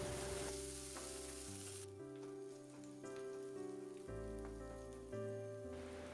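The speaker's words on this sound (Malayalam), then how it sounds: "ഒരു ചെറിയ കഷ്ണം ഇഞ്ചി, ഒരു ചെറിയ അല്ലി വെളുത്തുള്ളി, 3 പച്ചമുളക് ഇവയും കൂടെ ചേർത്ത് നന്നായിട്ടൊന്ന് വഴറ്റിയെടുക്കണം" Onion, ginger, garlic and green chilies sautéing in a pan for green peas curry, a soft continuous sizzle under louder background music, quiet and steady.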